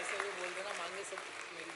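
A crowd claps steadily through a Raksha Bandhan gathering, a dense continuous patter of applause under a voice.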